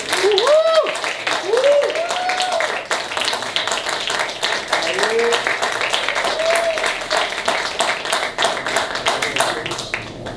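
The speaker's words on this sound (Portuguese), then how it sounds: "aplausos pra ele!" Audience at a stand-up comedy show applauds with dense, steady clapping throughout, while whoops and raised voices ring out over it in the first half.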